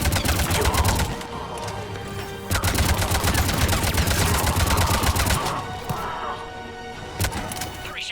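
Rapid gunfire during an attack in Mass Effect 3, repeated sharp shots in fast strings over a rumbling low backdrop, pausing briefly before resuming in bursts.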